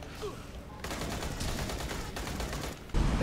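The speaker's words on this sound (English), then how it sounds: "I keep hearing a pistol going off." Rapid, dense gunfire in the video game Aliens: Colonial Marines, a continuous burst of repeated shots at moderate distance with a brief gap and a louder crack at the end.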